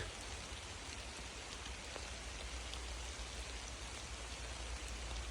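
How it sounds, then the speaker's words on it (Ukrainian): Steady rain pattering on leaves and ground in a beech forest, an even, dense hiss of drops with no voices. "Вінничина, такий буковий лісок, іде дощик."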